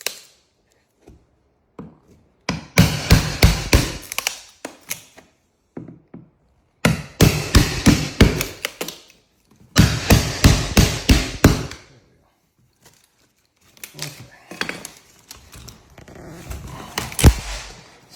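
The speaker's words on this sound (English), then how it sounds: "We're just going to chip this out." A damaged wooden floorboard is chipped out around cleat nails during a floor repair, loud close bursts of rapid hammer-and-chisel blows in several clusters separated by quiet pauses, with no talking.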